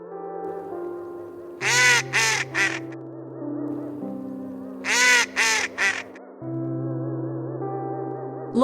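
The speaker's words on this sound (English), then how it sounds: "What does the duck say?" A duck quacks in two quick bursts of three loud, nasal calls separated by a pause, over steady soft background music.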